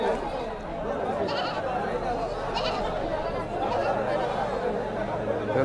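Goats bleat now and then amid the busy chatter of crowds at an old rural goat market in Ghior, Manikganj, Bangladesh, with steady murmur of voices throughout.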